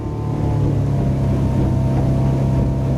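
A Bayliner 642 motorboat runs at about 32 knots, with a loud, steady engine roar and rushing water noise throughout.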